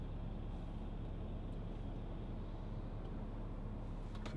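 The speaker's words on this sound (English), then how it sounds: "Lots of traffic." Steady low road rumble of traffic heard from inside a 2012 Volkswagen Touareg 3.0 TDI V6 on a country route, a continuous muffled drone with faint passing swells and no talking.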